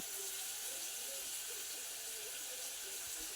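Fish curry spice paste frying in a pan, a faint, steady sizzle and hiss throughout with soft scraping in the background.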